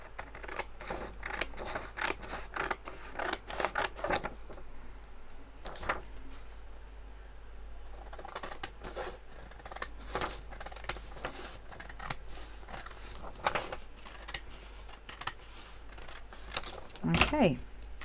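Scissors trim excess paper from an altered notebook in a crafting session, with repeated short snipping cuts in uneven bursts, close to the microphone, amid light paper rustling and handling.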